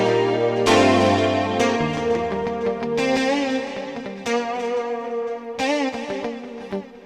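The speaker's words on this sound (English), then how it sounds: "here's the effects chain that I did, which is a multi-tap delay, a couple of delays actually, reverb and chorus" Lush 80s-style keyboard chords played from an Akai MPC pass through multi-tap delays, reverb and chorus, each struck chord ringing out with shimmering echoing tails before the next, clear and upfront with no voices.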